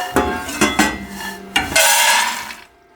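Lightly roasted peanuts scooped out of a metal wok, giving several sharp clinks and scrapes of a spoon on the pan followed by a rattling pour of nuts, loud and close.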